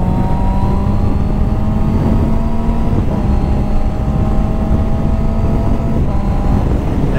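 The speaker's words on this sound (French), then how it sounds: "On a une très belle sonorité au niveau du moteur" A Honda CB650R four-cylinder motorcycle engine revving hard and holding a high, steady whine, the pitch climbing slightly, heard up close with wind and road noise.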